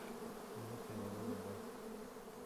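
Honeybees hum close by around a colour-marked queen in the hive, a steady drone with a few brief louder buzzing tones from individual bees.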